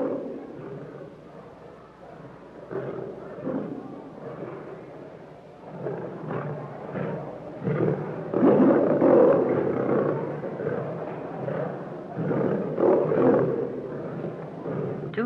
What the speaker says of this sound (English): Feeding time at the lion house is always exciting and noisy.